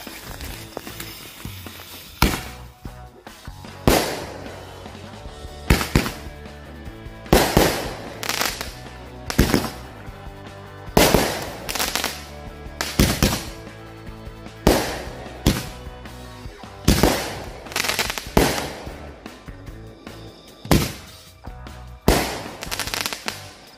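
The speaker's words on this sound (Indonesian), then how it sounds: "selanjutnya kita nyalakan mercon Roman Candle yang 8 lesutan. Ini 2 buah sekaligus ya" Two 8-shot Roman Candle fireworks lit together fire a series of sharp, loud bursts in an uneven rhythm, roughly a dozen pops with crackling tails, outdoors with no talk.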